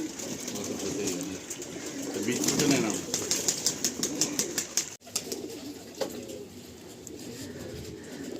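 Big old Nasal Giribaj pigeons in a Tollygunge loft coo softly while wings flap in quick, rapid bursts. The sounds are close, and people talk over them.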